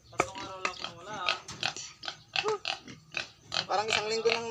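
Pigs grunt and oink in rapid, overlapping bursts at feeding time, loud and close, with a voice mixed in among the animal sounds.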